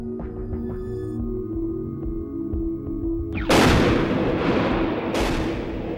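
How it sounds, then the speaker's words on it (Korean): A plastic explosive charge air-bursts above a barbed wire entanglement with one loud, sharp blast after a low hum, then rolling echoes and a second crack. "철조망 약 1m 위에서 폭발했습니다."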